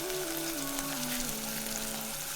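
Beef browns in a pan, giving a steady, even sizzle with a faint tonal hum underneath, continuous and fairly quiet.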